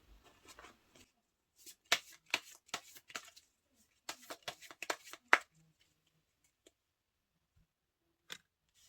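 Tarot cards being shuffled and handled, a run of crisp riffling slaps and soft card flicks in uneven bursts, close and fairly quiet, trailing off into near silence with one last isolated snap.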